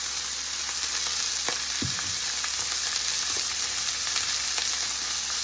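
Chicken pieces seasoned with salt, pepper and cumin sizzle steadily in a pan, a continuous close hiss with occasional small pops and crackles throughout, no talking.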